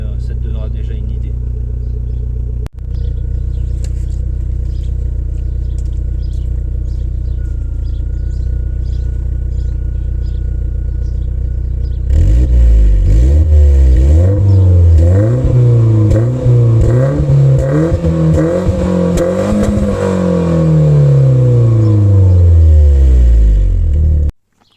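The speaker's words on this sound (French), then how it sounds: "Je vais te faire quelques petites accélérations pour que tu vois le résultat." A BMW E36 316i with a steel 320i exhaust silencer fitted idles steadily, then is blipped through several loud, close revs that climb and fall back, ending abruptly.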